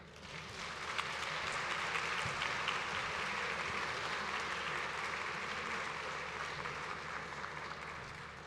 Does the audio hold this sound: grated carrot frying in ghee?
no